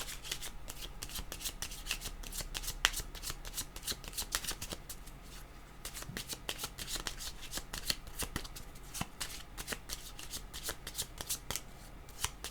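Tarot cards being shuffled by hand in a steady run of crisp riffling flutters, close and fairly quiet, with brief pauses near the middle and no talking.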